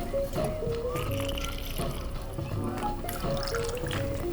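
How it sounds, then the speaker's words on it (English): Absolut vodka poured into a glass filled with ice, a steady liquid trickle with light ice clinks, close and moderately loud, with a voice talking over it. "you want to do a good, big, healthy 45 ml of Absolut Vodka."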